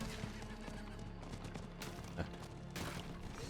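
Horse hooves gallop in the Diablo 4 game, a steady clip-clop rhythm running under a dense layer of other game sounds, with a couple of sharper impacts standing out.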